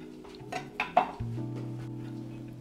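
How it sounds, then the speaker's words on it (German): A spoon clinks against a bowl while a chili mixture with soy sauce is stirred for an avocado chicken salad, a few quiet taps and scrapes followed by a low steady hum, close and faint with no talking. "Das Ganze rühre ich jetzt so ein bisschen durch, damit das schön gleichmäßig ist"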